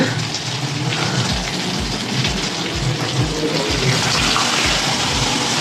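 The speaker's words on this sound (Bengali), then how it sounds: "এবার বন্ধুরা আমি ডালটাকে ঢেলে দেবো সবজির মধ্যে" Dal pours from a pot into a pan of cooked vegetables in a home kitchen, making a loud, continuous gushing splash with a soft rhythmic low thumping underneath. The sound stays steady for several seconds, with no voices.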